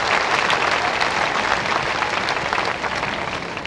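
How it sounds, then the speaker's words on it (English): A 1978 island revue stage-show audience gives loud, continuous applause that thins slightly toward the end. "How about a big round of applause for our soggy good sports in the front and reserve?"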